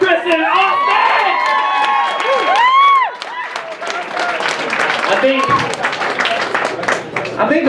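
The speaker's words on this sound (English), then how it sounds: "please give a big round of applause for Kristin Austin!" A comedy club crowd cheers, whoops and applauds for a comedian, with loud, rising shouts over clapping early on, then scattered claps and voices as the noise settles.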